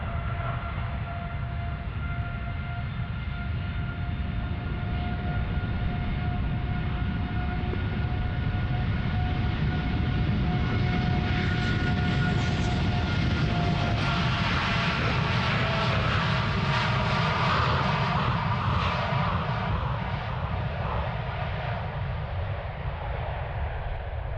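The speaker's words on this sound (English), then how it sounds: "and now taking off Tui Dreamliner" A TUI Boeing 787 Dreamliner takes off from runway 36L at Amsterdam Schiphol, its steady jet roar swelling and holding loud throughout with a broad rumble and a rising whine, no voices over it.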